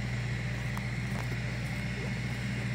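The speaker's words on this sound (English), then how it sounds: "You can hear the generator running in the background." A generator drones steadily in the background, a constant low hum with no pauses and a faint tonal whine above it, heard alone at moderate distance.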